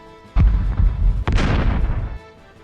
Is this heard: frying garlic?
no